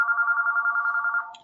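A telephone rings with one sustained, buzzy trilling ring that lasts over a second and then cuts off, loud and close in a quiet room.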